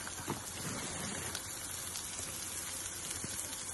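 Cabbage, carrot and beans sizzle in a pan while cooking Indian-style macaroni, a steady, fairly quiet hiss with faint crackles that continues evenly throughout.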